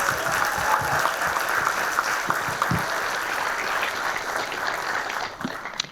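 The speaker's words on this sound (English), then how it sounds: "Huge round of applause." An audience at the 2025 EDFC award show gives a sustained round of applause. The clapping is dense and loud and tapers off at the end.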